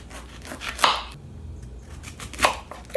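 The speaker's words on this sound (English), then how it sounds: "We're gonna cut that out. So you're gonna cut a V shape." A knife cuts a V shape out of a halved cabbage's core on a cutting board, giving a few close crunchy, squeaky slicing strokes with quiet pauses between them.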